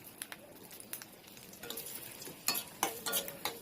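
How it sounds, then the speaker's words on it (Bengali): Dried red chillies fry in a little oil, giving a soft sizzle broken by scraping stirs and sharper spatters, growing busier and louder toward the end. "কিছুটা শুকনো লঙ্কা ভেজে নেবো।"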